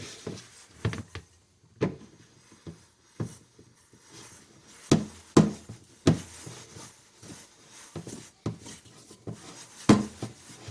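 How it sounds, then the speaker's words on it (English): Sticky bread dough for a no-knead artisan loaf is mixed around in a bowl, making a series of irregular, close-up wet slaps and knocks against the bowl with short pauses between them. "I'm just going to mix it all around"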